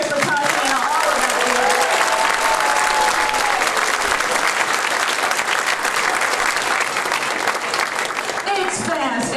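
A big round of applause from a live audience, loud, dense and continuous for several seconds with cheering mixed in, fading slightly at the end.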